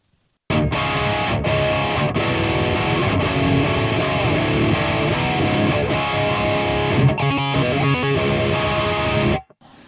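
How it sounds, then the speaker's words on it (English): A Donner Hush X Pro electric guitar played through its built-in drive effect gives a steady, saturated distorted tone with sustained chords for about nine seconds, then cuts off abruptly. "If I tap the smart button, it's gonna add the drive."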